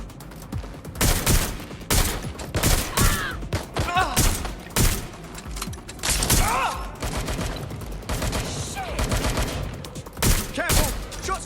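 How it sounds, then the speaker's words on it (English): Repeated gunfire in Watch Dogs Legion, a loud run of sharp shots and bursts spread unevenly over several seconds with brief gaps, mixed with game effects. "Shots fired!"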